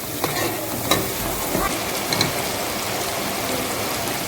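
Onions frying in oil for a white chana curry, with a steady close sizzle and a few light clicks of stirring throughout, no talking.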